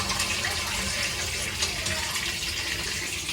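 Tap water gushes steadily into a bathtub at home in Japan, a continuous close rushing splash with no pauses.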